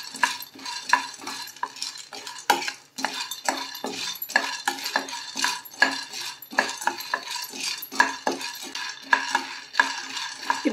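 Dry lentils being roasted and stirred in a pan for a sweet peda, a spoon scraping in a steady run of close, crisp strokes with short pauses.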